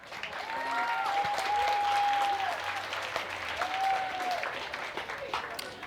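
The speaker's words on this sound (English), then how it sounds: "let's give these ladies another round of applause" Audience applause at a county fair beauty pageant, a sustained wash of clapping rising and holding throughout, with cheering or whistle-like tones and voices over it.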